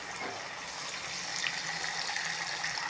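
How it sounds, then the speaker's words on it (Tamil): Dissolved tamarind water pours into a pot of Tamil onion kulambu as a soft, continuous splashing trickle, fairly faint and alone. "இப்போது கரைச்சி வச்சுருக்கிற புளியை ஊற்றிடுங்க"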